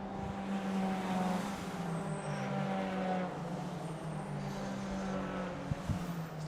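Rallycross supercars lap the Mondello Park circuit in the Motorsport UK championship, engines droning and rising as they pass at a distance, faint and continuous with occasional sharp knocks and no talk.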